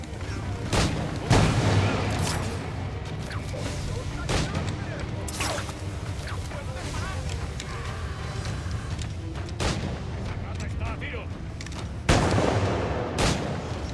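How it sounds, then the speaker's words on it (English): Explosions and cannon-like booms in Assassin's Creed Black Flag, a series of loud, sharp blasts scattered irregularly over a continuous noisy battle background. "How did he blow up?"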